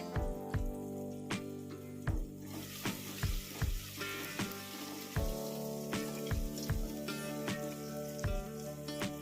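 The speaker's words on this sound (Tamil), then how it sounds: "வெங்காயம் தக்காளி 2 நல்லா வதங்கி வரட்டுங்க" Onions and tomatoes sauté in a pan, keeping up a steady sizzle with regular sharp scrapes and taps from a spoon against the pan, close and clear, no voices.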